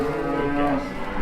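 Weaned heifers moo in a shed, one long, loud, drawn-out bellow close by with other cattle noise behind it.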